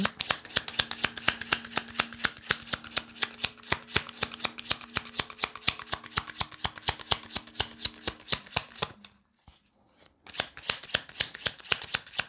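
Symbalon cards being shuffled, a fast run of crisp riffling slaps close by that stops briefly for about a second before resuming, with no talking.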